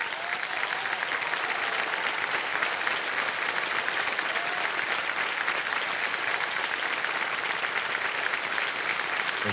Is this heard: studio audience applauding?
yes